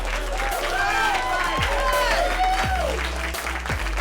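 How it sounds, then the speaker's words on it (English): A live comedy audience claps and cheers for a comedian in one steady wash of applause. Voices call out and chatter over it. "that's how loud y'all was clapping for JJ."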